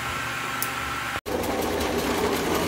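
A farm machine grinding corn to make pamonha at a São João celebration, a steady mechanical hum and whir with a brief dropout near the middle.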